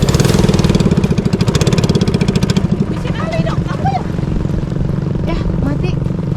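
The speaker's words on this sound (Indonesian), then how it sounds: "saat mesin perahu mati di tengah-tengah danau" A boat engine on a lake in Enggelam, a village built on water, runs loud and steady, then cuts out about halfway through, leaving quieter water ambience and faint voices.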